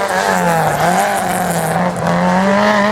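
Peugeot 106 racing through a slalom course, its engine loud and close with a strained, wavering tone as revs rise and dip, plus tyre squeal, no speech heard.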